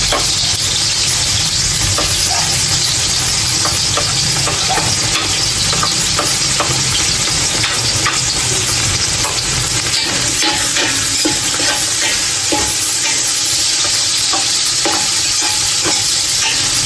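Ginger, garlic, chili and onion fry loudly in oil, a dense constant sizzle close up with frequent scraping and clinking stirs throughout.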